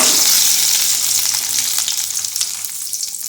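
Ginger and garlic sizzle in a pan alongside lightly toasted coconut, a steady close, loud frying hiss with faint stirring scrapes and no voices.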